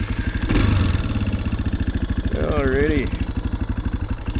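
A Suzuki DR650 motorcycle idles nearby with a steady, even thumping beat, a short blip of revs early on. Someone speaks briefly over the engine.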